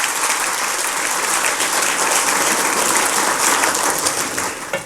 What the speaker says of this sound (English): Give him a huge round of applause for that presentation